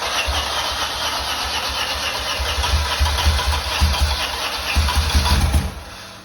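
The engine of a BMW R80 R motorcycle turns over and coughs through its first uneven firing attempts on restart, with rough low pops and bursts over a steady hiss, close by, then dying away.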